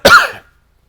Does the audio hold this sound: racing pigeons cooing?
no